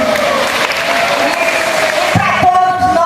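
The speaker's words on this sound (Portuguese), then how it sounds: "Uma salva de palmas para o Hinaldo" A congress audience in Brazil breaks into applause with some cheering, a loud, dense, continuous clapping wash that thins near the end as a few sharper claps stand out.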